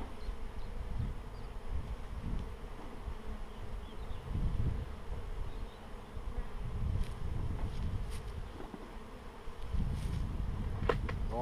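Honeybees drone around an open hive fitted with a nine-frame super, a continuous close buzzing that swells and fades with a few sharp flybys and light rustles. Nobody speaks.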